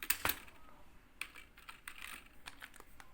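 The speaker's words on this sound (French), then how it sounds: "je clique sur la touche où il y a la virgule" Someone types on a computer keyboard, close and soft, with two sharper key strikes at the start followed by a loose run of light clicks with short pauses between them, and no voices.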